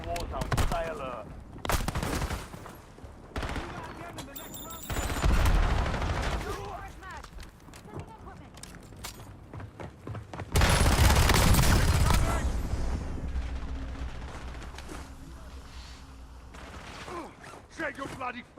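Video game gunfire crackles in repeated bursts and single shots, with a heavier volley around the middle, mixed with in-game radio voices and callouts.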